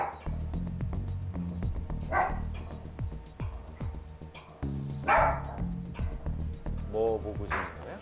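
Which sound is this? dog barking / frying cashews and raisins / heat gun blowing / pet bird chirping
dog barking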